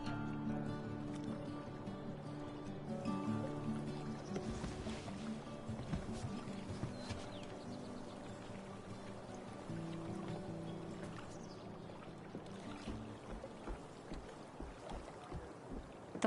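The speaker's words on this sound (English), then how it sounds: "If not for the paddling, kayaking would be super relaxing." Kayak paddling in the video game Life is Strange True Colors: steady water swishes and splashes from the paddle, mixed under continuous game music with a faint wind-like hiss.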